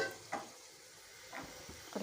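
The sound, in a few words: tomato paste frying with onion and ginger in pan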